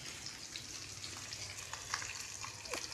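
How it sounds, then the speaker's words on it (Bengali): Prawns fry in a pan in a home kitchen, giving a steady, close hiss of sizzling oil with small crackles and pops scattered throughout. "চিংড়ি মাছ ভাজা হচ্ছে বন্ধুরা"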